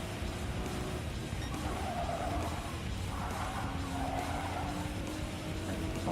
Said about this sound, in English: And slide as you hear the tyres squealing in pain.